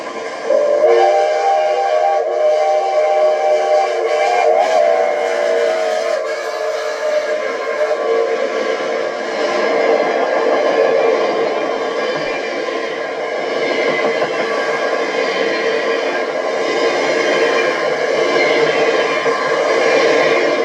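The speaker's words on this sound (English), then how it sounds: "3751 and her train emerge from the fog to begin the run to Kansas City" Steam locomotive 3751 hauls its train out of fog on a run toward Kansas City, its whistle sounding long sustained chords over the loud, continuous roar and rumble of the engine and rolling cars.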